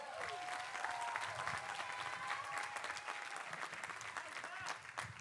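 Steady applause from a university convocation audience greeting the platform party of deans, dense clapping sustained throughout with some voices mixed in.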